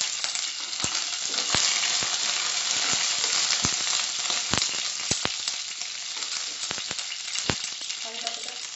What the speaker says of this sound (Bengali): কারি পাতাটা ফুটে গেছে